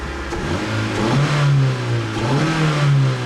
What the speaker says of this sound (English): Makes a really nice throaty sound.